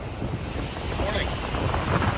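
Big ocean waves crash onto the shore on a windy, sunny morning, a steady broadband rushing wash mixed with wind buffeting the microphone, fairly loud and continuous throughout.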